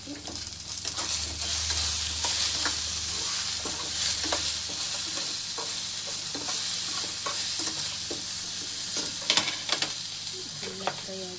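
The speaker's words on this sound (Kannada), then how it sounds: "ಎಲ್ಲ ಫ್ರೈ ಆಗಲಿ" Masala and greens fry in a pan with a steady, dense sizzle, while a spoon stirs and scrapes now and then, close and continuous with no talking over it.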